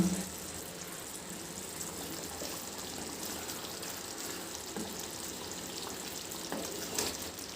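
A paneer capsicum masala gravy simmers under a lid, giving a faint, steady bubbling sizzle with a few soft pops and clinks over quiet room noise.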